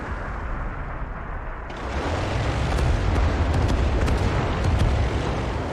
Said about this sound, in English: another salvo of Katyusha rockets coming in